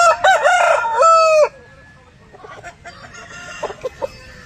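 A red rooster at a chicken market crows loudly and close by, followed by quieter scattered clucks and short calls from fowl.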